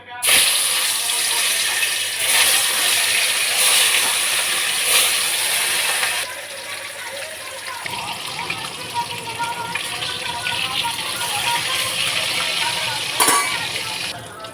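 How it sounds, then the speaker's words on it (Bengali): A piece of catla fish sizzles as it goes into hot oil, with loud bursts of crackling hiss at first that settle into a lower, steady frying sizzle, plus a sharp clatter near the end. "তেল গরম হয়ে গেছে, এবার মাছটা ছেড়ে দেবো।"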